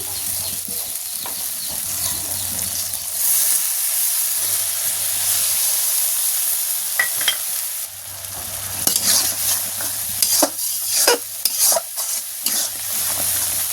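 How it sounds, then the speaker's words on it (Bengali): Spice paste for duck curry stirred and fried in a pan, a steady close sizzle with intermittent scraping stir strokes and hiss, no voices. "মশলাটা ভালোভাবে কষিয়ে নিতে হবে।"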